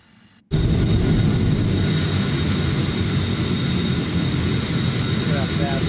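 A jet airliner at cruise altitude, roughly flight level 350, passes directly beneath, heard as a steady broadband engine roar that starts abruptly after a brief quiet moment and stays loud and constant.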